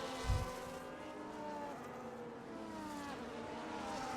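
Race cars in the F1 25 video game at the Singapore Grand Prix street circuit, a dense steady engine whine with shifting harmonics as cars jostle and overtake, a brief low thump near the start, continuous and fairly close.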